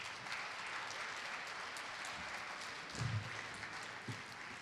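Audience applause at a talent show event for junior singers in Bassano del Grappa, a steady wash of clapping from a crowd at moderate distance, continuing evenly with a few louder bursts.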